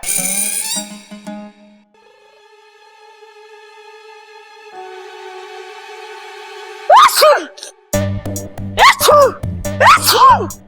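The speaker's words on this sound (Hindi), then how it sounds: "अभी थोड़ी देर पहले तो तू ठीक ठाक था, अब छींकता ही जा रहा है।" A young man sneezes several times in quick succession near the end, loud sharp bursts over background music and ambience from a Hindi TV serial scene.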